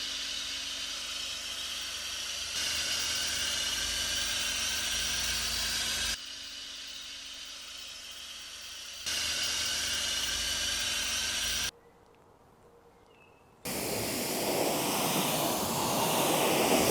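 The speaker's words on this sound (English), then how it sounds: "Add drip into your foam cannon and snow foam your entire car." A foam cannon sprays snow foam over a Ferrari 812 Superfast during a car wash, a steady airy hiss that shifts in level, briefly drops out and then returns louder.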